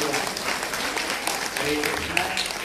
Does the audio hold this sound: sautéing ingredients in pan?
no